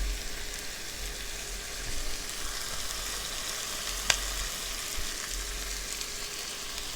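Chopped onion frying in butter in a pan for a beef stroganoff, giving a steady, soft sizzle throughout with a single sharp tick partway through, close and moderately quiet, with no talking.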